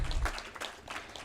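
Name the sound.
applause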